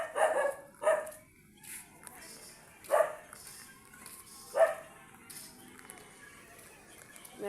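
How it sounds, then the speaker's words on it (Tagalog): An angry dog barks in a narrow residential alley at dusk, several sharp, separate barks spaced a second or more apart at moderate distance, with a person talking quietly between them. "Nagagalit yung aso."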